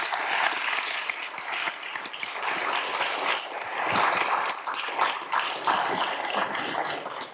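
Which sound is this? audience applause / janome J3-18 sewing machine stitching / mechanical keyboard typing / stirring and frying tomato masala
audience applause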